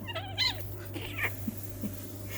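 Kittens meowing close by in a cat hammock at home, a few short high mews and cries, with no talk over them.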